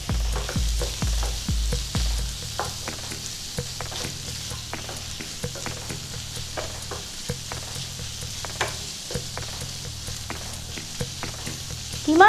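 Chicken mince frying in butter, a close steady sizzle and crackle with intermittent stirring clicks and scrapes throughout, no talk.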